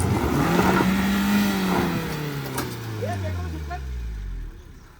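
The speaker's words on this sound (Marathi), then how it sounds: "गाडी चालू कर." A car parked at the roadside near Kalmandavi waterfall fires up close by and revs, its engine tone swelling and then sliding down in pitch over a few seconds as people's voices mingle in.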